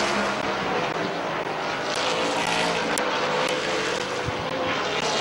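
Stock cars racing at Midvale Speedway in the Fall Classic on a fair day, a steady, loud engine roar that fills the whole stretch with no break and a few brief rising whines as cars pass.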